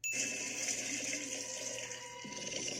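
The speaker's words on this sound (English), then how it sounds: "There's a very audible difference between the sound of water pouring into the tub and the sound of slime pouring into the tub." Water pours steadily into a bathtub, making a continuous, fairly faint rushing splash that keeps going for a few seconds with no talking.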